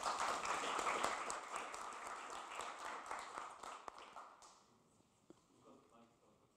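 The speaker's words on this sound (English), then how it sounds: "a huge round of applause for our panelists" An audience at a panel discussion on volunteering in conflicts and emergencies claps for the panelists, a dense burst of applause that gradually thins out and fades, with a few scattered claps at the end.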